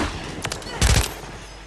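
Gunfire in a video game, a short cluster of sharp shots over a steady background hiss, with a louder burst near the end.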